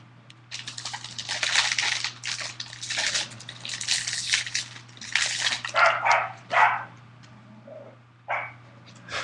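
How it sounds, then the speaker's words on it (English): Dogs wrestling and barking downstairs, a muffled, irregular run of scuffling and barks that carries on through most of the stretch and then fades into quieter gaps, with a steady low hum underneath. "if you can hear the dogs, they're probably wrestling downstairs"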